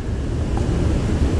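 A waterfall on a hiking trail in Paulo Lopes, Santa Catarina, gives a loud, constant low rushing roar close by, mixed with wind buffeting the microphone.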